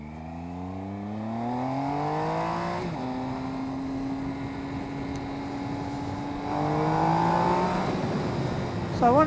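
A motorcycle engine runs steadily while riding, with rising and falling harmonic tones as it revs through gears, loud and continuous with wind rush throughout.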